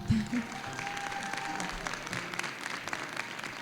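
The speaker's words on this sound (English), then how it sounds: "You can applaud if you'd like now." Audience members at a ward aldermanic candidate forum applaud at the close, a soft, distant, even wash of clapping running throughout, with faint speech mixed in.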